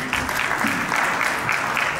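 Applause from an audience at a wine awards event, greeting a speaker named Lloyd Paskett. The clapping is dense and steady, filling the whole stretch at an even level with no voices over it.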